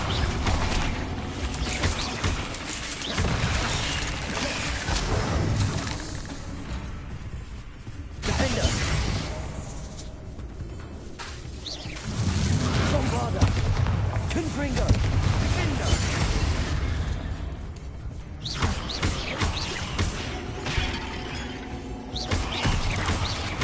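Bombarda spell blasts in the Hogwarts Legacy video game, heavy booming and shattering bursts layered in dense combat effects and music, with loud surges around the middle and near the end and shouted voices between them.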